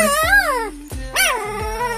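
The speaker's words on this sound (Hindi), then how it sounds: "ये भौंकना हाँ। सीख रहा है देखो" A two-day-old puppy gives a string of high, wavering yips and whimpery barks, close by, in short bursts with brief pauses.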